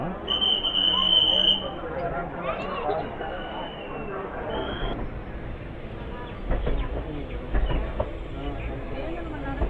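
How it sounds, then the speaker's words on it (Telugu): Palnadu Superfast Express ICF passenger train at a railway station, carriage rumble and clattering wheels beneath a steady crowd babble and voices, with a high whine early on. "ఆన్ టైం స్టార్ట్ అయిపోయింది ట్రైన్"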